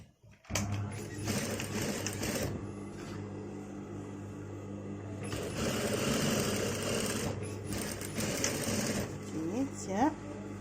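A sewing machine topstitching a layered face mask with a filter pocket runs in a steady, whirring, rapid needle rhythm for nearly the whole stretch, loud and close, with only a brief change in pace midway.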